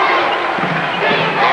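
A basketball arena crowd roars and cheers loudly and without a break, a dense wall of voices that holds steady throughout.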